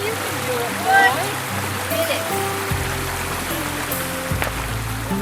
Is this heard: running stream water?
yes